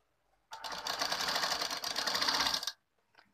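A sewing machine stitches the lining of a blouse in one continuous rapid burst of about two seconds, close and clear, with quiet before and after.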